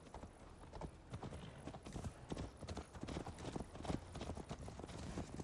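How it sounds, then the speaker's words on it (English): Horse hooves clip-clop steadily at a riding pace in the Viking-era video game Assassin's Creed Valhalla, a continuous rhythmic plodding heard alone at moderate volume. "Mount up, Eivor"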